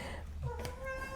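A pet cat gives a short meow, brief and fairly close, over soft background noise.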